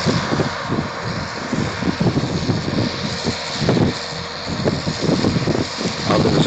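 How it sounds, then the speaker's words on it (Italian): Strong wind buffets the microphone outdoors in a rural work area. The rumble is steady and broadband, with gusty low thumps throughout and no voices. "Oggi c'è un forte vento"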